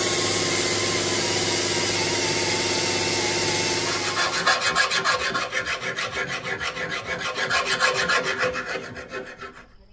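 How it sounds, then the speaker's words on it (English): A hand file rasps back and forth along the edges of a custom motorcycle part, a close, rhythmic series of scraping strokes that follows a few seconds of steady machine whine. "then finally I'll come through with a file and get all the edges sharp and make it look really nice"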